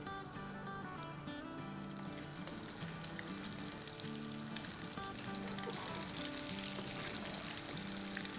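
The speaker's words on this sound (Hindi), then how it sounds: "तो बस इसे हम हिलाते जाएंगे, 40-50 सेकंड तक फ्राई करेंगे।" Vegetable pieces deep frying in very hot, rapidly bubbling oil for a KFC-style vegetarian fried snack, a steady dense sizzle and crackle running throughout with faint tonal background music and occasional stirring.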